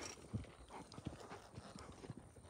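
A horse ridden at a walk on an outing near a river and hills, its hooves giving a steady, uneven clip-clop of soft thuds, fairly faint over a constant outdoor hiss.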